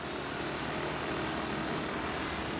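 A RotorScale UH-1A 450 Huey RC helicopter flies nearby with a steady, buzzing rotor and motor drone, and the body vibrates audibly; the sound is constant and fairly faint.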